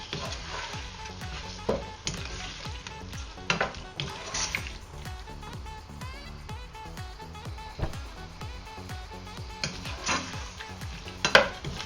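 Chicken Manchurian pieces are stirred and cooked in a pan, with repeated scraping and clinking of a utensil over a light sizzle, close and steady, with a few sharper knocks.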